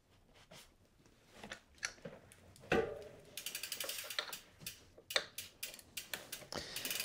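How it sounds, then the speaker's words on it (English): A number 5 Allen tool works a bike crank retaining bolt loose, giving close metallic ratcheting clicks and small knocks in quick irregular runs, with a sharper clunk partway through. "This is a number 5 Allen tool."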